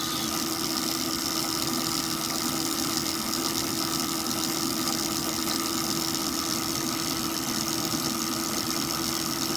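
An ultra low RPM generator runs under load, producing a steady, even engine hum with a constant low drone and mechanical vibration and no speech throughout.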